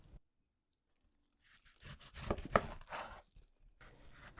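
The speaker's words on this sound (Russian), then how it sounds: "просто нарезаем его и добавляем в блендер" A knife chops through an unpeeled orange on a board in a quick burst of soft, close cuts, after a near-silent start.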